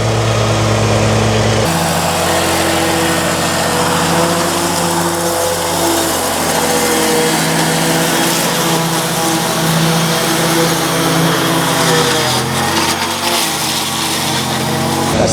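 An RC Mower R60 remote-controlled slope mower runs steadily with a loud, continuous engine drone. The blade is engaged as it cuts through tall cattails and thick brush, and the engine note shifts slightly as it works.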